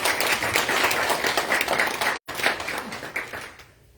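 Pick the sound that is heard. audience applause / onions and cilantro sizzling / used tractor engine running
audience applause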